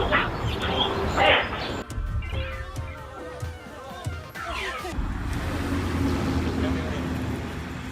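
Two dogs fighting, with loud, aggressive barks and snarls in bursts over traffic noise, and a voice talking over part of it.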